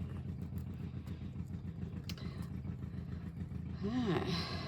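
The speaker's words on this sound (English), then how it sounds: "is that a motorbike I can hear?" A motorbike passing outside, its engine a faint, muffled drone under an indoor workshop hum, rising briefly near the end as it goes by.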